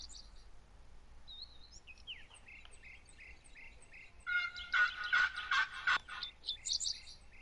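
Wild turkey gobbling in a hunting video game, a rapid rattling gobble rising loud and near after quieter chirps and calls, with more scattered bird calls trailing off.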